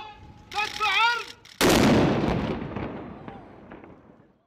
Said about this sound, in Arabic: مدفع الإفطار، مدفع عرض.